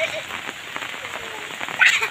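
Steady patter of typhoon rain on a surface with a faint breezy hiss, fairly constant, and a brief louder burst near the end.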